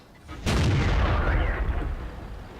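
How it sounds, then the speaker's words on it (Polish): A single heavy tank cannon blast in World of Tanks booms out suddenly, then rumbles and fades over the next two seconds. "Jak on strzela? strzela w wieżę."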